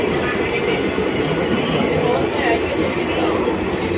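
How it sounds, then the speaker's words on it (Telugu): A Repalle passenger train rumbles along steadily near Guntur with a continuous roar and faint rhythmic rattling of the carriages, heard from inside. "ట్రైన్ జర్నీ చూసారా?"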